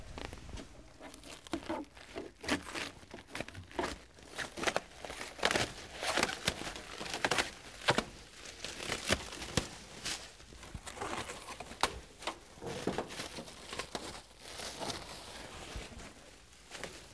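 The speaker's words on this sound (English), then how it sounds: "We'll start in the back and we'll cut the shrink wrap." Shrink wrap is cut and pulled off a Genie AWP aerial work platform, giving continuous close crinkling, tearing and rustling plastic with irregular louder snaps and no speech.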